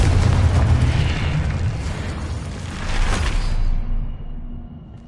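Confringo blasting spell in Hogwarts Legacy: a loud, rumbling fiery explosion bursts and rolls on for about four seconds, a second surge following midway before the blast fades into silence.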